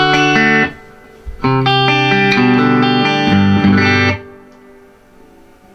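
Electric guitar played through a Fender Tone Master Twin Reverb amp with the reverb set low at 3, loud sustained chords in two bursts with a short tail ringing out after each.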